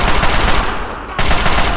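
Rapid automatic gunfire in Fallout 3, a dense, loud stream of shots with a short lull partway through before the firing resumes just as hard.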